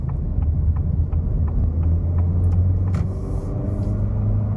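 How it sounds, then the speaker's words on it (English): Acura ADX A-Spec crossover accelerating in comfort drive mode, heard from inside the cabin as a steady low engine and road rumble with only faint clicks above it, no talking. "Pretty good acceleration, got up to 50 miles an hour pretty quick, and that wasn't with a lot of, you know, throttle input"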